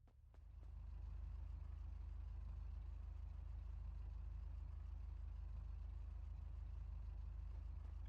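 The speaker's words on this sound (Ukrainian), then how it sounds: "Маємо заводіть заново двигун." Car engine started again after an oil change, in the MG from the title: the engine catches in the first second, then settles into a loud, steady low rumble at idle with no talk.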